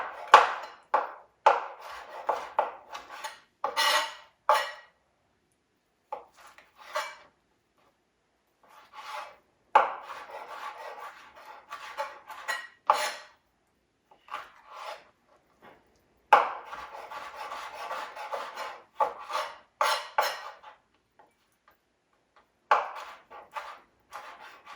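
Cooked turkey is chopped with a knife on a board in rapid bursts of close, dry knocks and scraping cuts, separated by short pauses.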